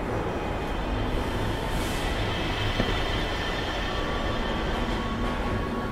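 A train running in the Black Mesa video game, a loud continuous rumble of wheels and carriage that rolls on steadily throughout, with faint metallic squeal and no voices.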